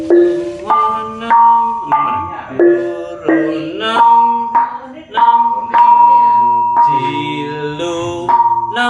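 Gamelan ensemble with gong playing: bright, ringing metallophone tones struck in a steady melodic rhythm, sustained overtones layered over lower gong resonance, loud and close with no talk.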